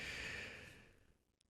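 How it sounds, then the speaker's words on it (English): A man breathes faintly over a phone line, one long soft exhalation that fades away, heard alone. "I could hear a man breathing"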